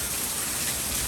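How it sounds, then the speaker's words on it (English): Heavy rain pours down steadily, a dense continuous hiss of drops drumming on surfaces close by, loud and unbroken with no voices. "there was so much rain coming through. Like a lot of rain."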